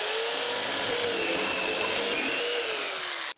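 Power sanding on a freshly cut cabinet toe kick recess, a steady close whine with a broad hiss running evenly for about three seconds and stopping abruptly at the end.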